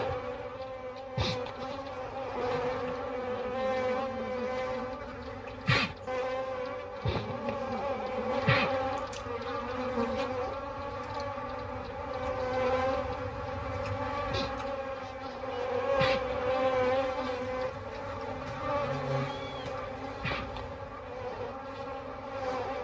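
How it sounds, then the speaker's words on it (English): A dense swarm of African bees buzzes continuously, a layered droning hum with individual insects passing close and loud, occasional sharp clicks on top, and no voices. "African bees, like everything else, are desperate for sustenance."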